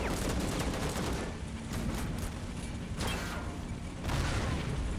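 Tank cannon fire and hull impacts in a tank-commander combat video game, sounding as repeated dense booming bursts with mechanical clatter over a constant low rumble, loud and close throughout.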